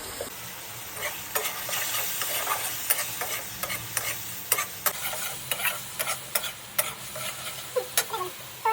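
Spices stirred into onions frying in a pan at home, a close spatula scraping in repeated strokes over a soft, constant sizzle, with no talk.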